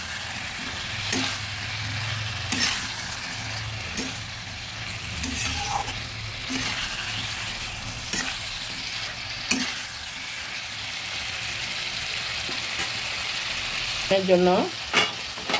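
Katla fish curry with raw banana being stirred in a hot pan: a steady oil sizzle runs throughout, broken by repeated scraping strokes of a spatula, with a brief spoken word near the end.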